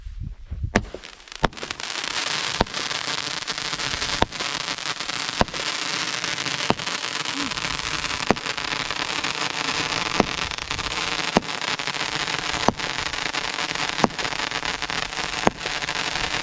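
Raining Comets consumer fireworks fire repeatedly, a loud sharp crack roughly every second and a half over a continuous crackling hiss, close by and without talk.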